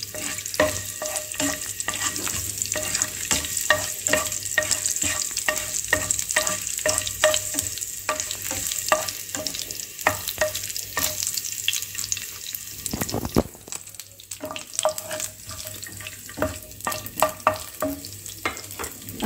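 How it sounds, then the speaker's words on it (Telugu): Fenugreek seeds, added with cumin, fry in oil in a pan with a constant sizzle, while a spoon stirs and taps against the pan in regular close knocks. A brief louder rush interrupts near the end. Nobody speaks. "ఒక కొన్ని చిటికెడు మెంతులు వేసి కొంచెం దోరగా వేపండి"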